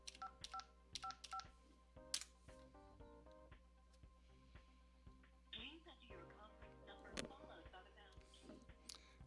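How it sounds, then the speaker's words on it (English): A telephone keypad sends DTMF tones to dial a conference bridge number on a phone system, a few crisp separate beeps near the start and then scattered tones and faint prompts later on. "we have to dial a different number to access this conference bridge"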